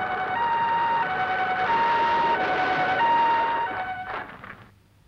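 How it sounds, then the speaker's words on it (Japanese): An ambulance siren in the Kamen Rider V3 TV series wails in a loud, steady two-tone pattern, then fades away at the end. "また救急車だ"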